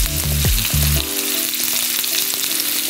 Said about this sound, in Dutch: je wil hem wel bruin bakken, maar je wil niet dat hij uitdroogt, de worst